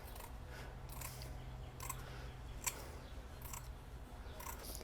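Scissors snipping cheesecloth, a handful of quiet, crisp cuts spaced irregularly, close up in a quiet room.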